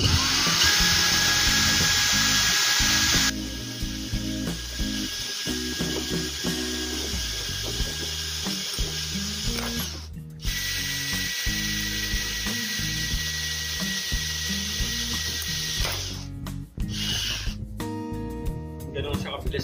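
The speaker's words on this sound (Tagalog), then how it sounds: "So sa pag-drill ng bakal, gagamitin natin yung ganitong mode. Tapos dahan-dahan lang natin siyang i-drill." A DeWalt 12V brushless drill driver drills into steel at a slow setting, giving a continuous high whine and grinding that runs the whole time with short dips, while background music with a steady beat plays underneath.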